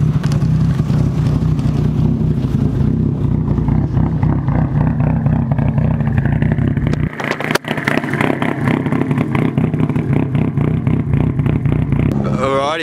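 A 500hp SR20-powered Nissan S14 idles loudly up close as it warms up, a steady rough engine drone with a brief dip midway, and voices talk over it.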